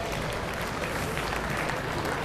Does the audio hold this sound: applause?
yes